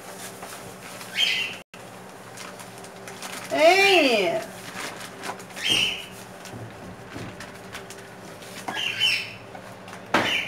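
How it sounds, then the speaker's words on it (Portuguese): Young birds peep and squawk in repeated short bursts, fairly close, over a low steady background hum while a person speaks briefly nearby. "Que é, crianças? Por que vocês estão piando tanto?"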